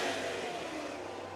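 A Sam Scott number 7S 410 non-wing sprint car with USAC at Red Hill Raceway fires on the back straightaway, its engine a faint, distant drone under crowd ambience.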